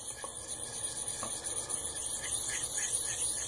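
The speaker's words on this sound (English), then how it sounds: "So I start by grinding a convex edge on here at any desired angle." A Fallkniven A1 knife edge ground on a DC3 sharpening stone held against the blade, producing a continuous high-pitched scraping squeal and hiss at close range with small rhythmic strokes.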